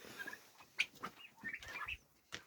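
Chickens peck at ordinary broiler feed nearby, giving off scattered soft clucks and short squawks in irregular bursts, with no talking.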